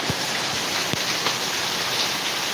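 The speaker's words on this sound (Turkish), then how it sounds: "Çok güzel yağmurumuz yağıyor şu anda." Steady rain falls in a village, a dense, even hiss of drops on surfaces close by with a few louder individual splats, and no voices.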